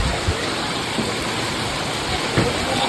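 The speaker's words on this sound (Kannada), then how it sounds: "ಗೈಸ್ ಇವತ್ತೇ ಇಷ್ಟು ಜೋರಾಗಿ ಬರ್ತಾ ಇರೋದು ನಮ್ಮ ದಾವಣಗೆರೆಯಲ್ಲಿ ಮಳೆ" Heavy rain pours down in Davangere, a dense, steady hiss and roar close by that holds evenly throughout with no voices over it.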